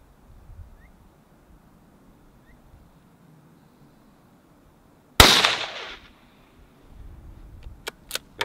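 A single loud, sharp crack from a Remington 591 5mm rimfire rifle breaks a near-silent stretch, followed by a brief decay and a few faint clicks and handling noises.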